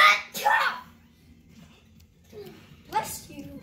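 A sharp burst near the start, then a second explosive burst toward the end, like sneezes, with a voice and murmuring in between.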